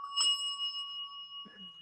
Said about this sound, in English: Hit the bell. She wins a prize.